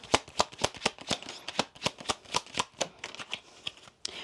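Tarot cards are handled and laid out one after another, a run of crisp, close slaps and flicks at a quick, uneven pace, with no talk.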